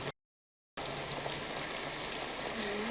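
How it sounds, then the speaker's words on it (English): Heavy rain falls in a dense, steady hiss after a brief cut to silence, loud and even throughout with no voices. "It's raining pretty hard."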